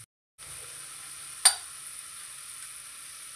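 Onion and tomato masala cooks in a pan with a steady, bright, hissing sizzle, broken once by a single loud clink of a spoon against the pan.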